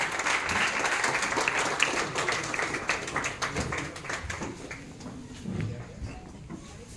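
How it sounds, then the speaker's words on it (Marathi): An audience applauds engineering college students at a college annual day event, dense rapid clapping that gradually thins and fades, with faint voices underneath. "जोरदार टाळ्या या दत्ता मेघे कॉलेज ऑफ इंजिनिअरिंगच्या विद्यार्थ्यांसाठी"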